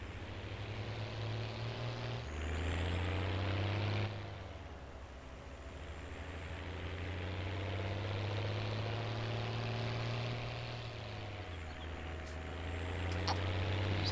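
Tractor engine in Farming Simulator 19 droning continuously and close, its pitch rising and falling as it revs and drives across grass.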